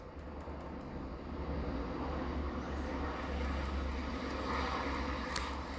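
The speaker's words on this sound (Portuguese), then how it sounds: "Helicóptero passando." A helicopter passes overhead, a steady low rumble with a broad wash that swells slightly and holds across the whole stretch, moderately loud with no talk.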